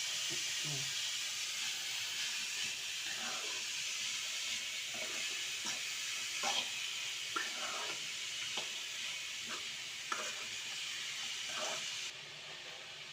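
Chopped papaya with curry leaves and salt fries in oil in a covered pan, a soft continuous sizzle and hiss with scattered faint scraping and clinking sounds.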